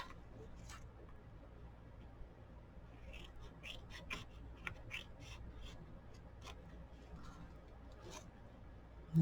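Scissors trimming paper, a run of faint, quick snipping cuts and light rustles up close in a quiet room, with no talk.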